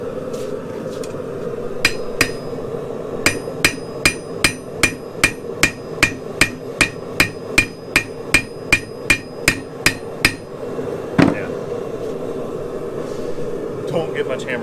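Hand forging a Damascus steel knife: a long run of sharp, evenly spaced hammer blows on hot steel at an anvil, about twenty ringing strikes close by, then a final louder clang over steady forge roar.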